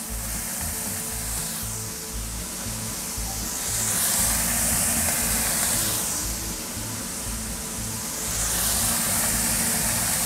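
Onion sizzles on a barbecue grill, a steady hiss of frying that swells in slow, periodic waves over a low background hum, with no talk.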